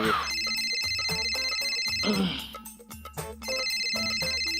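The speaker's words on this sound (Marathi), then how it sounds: "ए पप्प्या आळ तुझा फोन वाजला की मरता." A mobile phone plays a loud, repeating melodic ringtone with a steady rhythmic beat, close by and filling the room, with a brief dip partway through before the tune resumes.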